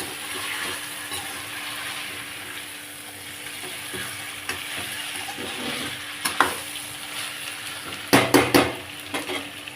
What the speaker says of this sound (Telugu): అందులో చికెన్ వేసి మళ్ళీ ఒకసారి మిక్స్ చేసుకుంటున్నాను.